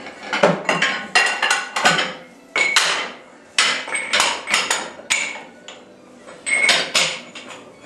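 Ironmaster Quick Lock dumbbell plates are tightened, producing a close series of sharp metallic clinks and knocks in quick uneven clusters with short gaps between them.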